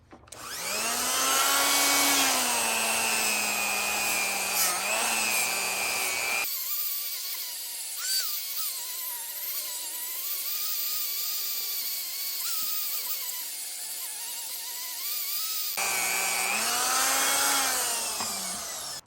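Power tool sanding a truck wheel with a coarse-grit abrasive. A loud, close whine runs steadily, shifts to a lower, smoother drone through the middle stretch, then returns to the harsher grind.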